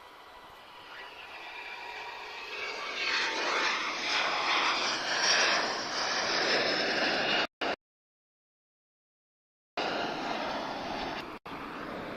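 A jet aircraft approaching Lisbon Airport gives a broad roar that grows steadily louder over several seconds, cuts out briefly, then returns as a continuing rumble, with no voices heard.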